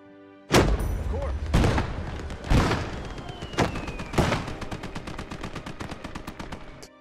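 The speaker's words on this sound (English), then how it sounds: "I need to allow the mortars to go ahead and start popping off" Mortars firing in a World War II hedgerow battle video game, a series of heavy booming shots in irregular succession, each with a long reverberant tail, amid layered distant gunfire.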